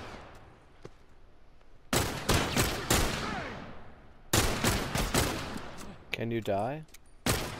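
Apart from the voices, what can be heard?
gunshots from the video game The Last of Us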